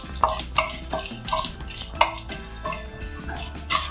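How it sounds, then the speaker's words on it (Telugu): Whole spices such as shahjeera, fennel and bay leaf fry in a pan with a soft sizzle, punctuated by regular scraping and stirring knocks as a spoon moves them, close and fairly quiet. "1/2 స్పూన్ షాజీరా, 1/2 స్పూన్ సోంపు వేసి బిర్యానీ ఆకు వేసేసి వీటిని దోరగా వేయించుకుందాం"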